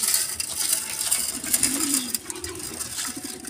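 Racing pigeons coo softly in a loft while being fed, their low, rolling calls repeating under a background of rustling and light pecking.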